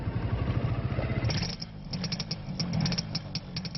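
Motorcycles gathered at a suburban market in Beijing, their engines idling and clattering at a moderate distance, with rattling mechanical noise and a few sharper metallic ticks from about halfway through.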